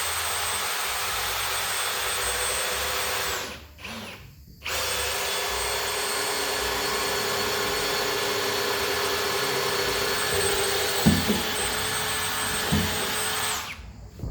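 A power drill bores through wood for an IBC pig feeder cradle, a loud steady whine running for long stretches with two brief stops and a restart near the end.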